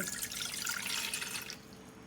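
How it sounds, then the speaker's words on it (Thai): Water pours steadily into a cooking pot for making jelly, with a splashing, rushing sound, close up, then tapers off near the end. "เทน้ำนะคะ ใส่ในหม้อเลย"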